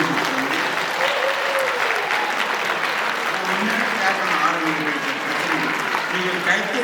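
Audience at a health talk by Dr. Chokkalingam claps loudly and steadily, dense hand clapping filling the room while voices carry on underneath.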